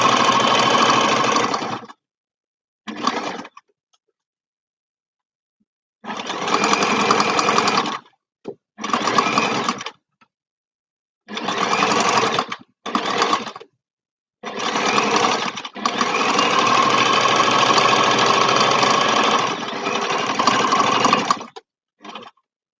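A sewing machine stitches around the fabric of a small craft bag in repeated bursts, several short runs and longer sustained passes separated by silent pauses, close and loud.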